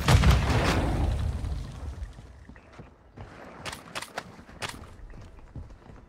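A grenade explodes in Call of Duty: Warzone Mobile, a loud booming blast at the start that rumbles and fades, followed by scattered sharp gunshot cracks and footsteps.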